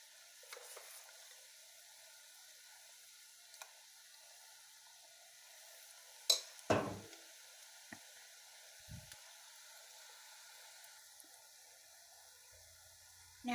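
Cream-style corn fritters fry in hot oil, giving a faint, steady sizzle throughout, broken by a couple of brief clinks and splashes from stirring or turning.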